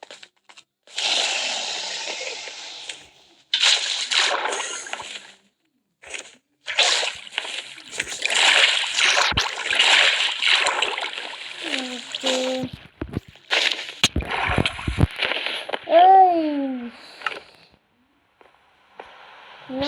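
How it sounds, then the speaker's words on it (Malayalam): Bursts of splashing, sloshing water from a water bucket in Minecraft come in several separate pours with short silences between, ending in a few tonal game-like effects. "അതിൻ്റെ മുകളിലേക്ക് വെള്ളം വാട്ടർ ബക്കറ്റ് നമ്മൾ ചെയ്ത് പോകണം."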